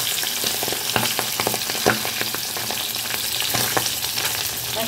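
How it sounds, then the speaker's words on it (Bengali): Tengra fish fry in a pan with a loud, continuous crackling sizzle, close up. Scattered pops and spatters run through it, with a few utensil taps as the fish are turned. "মাছগুলোকে আমি এক পিঠ ভেজে তারপর অপর পিঠটা উল্টে দেব"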